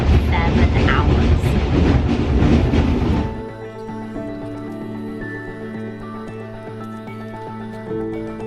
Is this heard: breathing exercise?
no